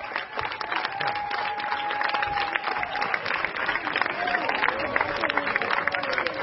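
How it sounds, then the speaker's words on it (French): Dense, steady applause from a large outdoor audience at a neighbourhood festival beach show, continuous clapping and crowd noise that holds loud throughout with faint whistle-like tones above it. "Et vous pouvez l'applaudir très très fort."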